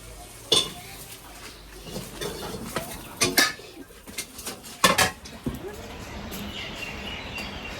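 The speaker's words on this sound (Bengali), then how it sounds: "আমি এদিকে বাসন নিয়ে এসেছি কলের পাড়ে। এই যে বাসন মাজতেছি" Dishes being scrubbed at an outdoor water tap, with scattered clinks and scrapes of pots and utensils, a few louder clatters, and birds faintly audible in the background.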